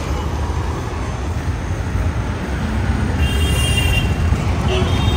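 A metro train rumbles past close by, its loud low roar swelling steadily, with faint squealing wheels and a hint of voices in the background.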